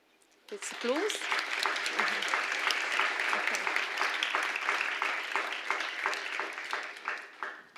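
Audience applause at a Grade 6 school celebratory ceremony: steady, dense clapping from a seated crowd that starts abruptly and carries on evenly for several seconds, with a brief voice at the start.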